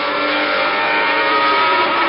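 Gerhard Berger's Ferrari Formula 1 car at the Portuguese Grand Prix screams past to complete a lap, a loud, sustained high-pitched engine whine heard close and alone.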